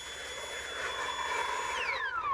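An OGERY 900 CFM cordless leaf blower powered by 21-volt lithium batteries runs with a loud steady whine and rushing air, then winds down in falling pitch before cutting off abruptly near the end.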